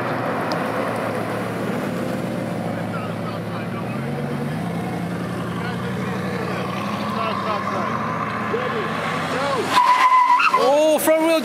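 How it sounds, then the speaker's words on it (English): Bugatti Chiron HellBee supercar passing at a car meet, a steady engine drone with tire noise that swells near the end as it closes in, under crowd chatter and excited voices. "Here comes the Bugatti, the HellBee."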